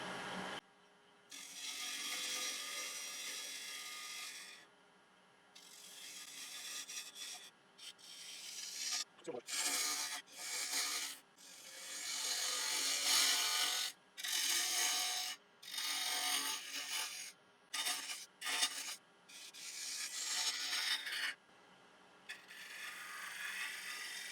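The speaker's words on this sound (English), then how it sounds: "So back to a little 1/2 inch spindle gouge." Spindle gouge cutting African mahogany turning on a lathe, a steady rasping, scraping whir broken into repeated short bursts as the tool engages and lifts off the spinning wood, close and fairly loud.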